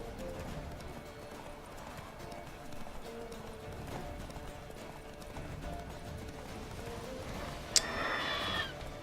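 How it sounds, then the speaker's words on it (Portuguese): Horse hooves galloping in the video game The Witcher 3, a rapid, steady clatter of hoofbeats under someone talking, ending with a short sharp whinny-like cry near the end. "Desce da porra do cavalo."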